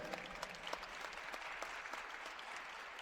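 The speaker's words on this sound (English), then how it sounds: "Nice round of applause by the knowledgeable fan base here at Augusta University" Fans at a women's college basketball game at Augusta University applaud, a faint, distant, steady patter of clapping across the gym lasting a few seconds.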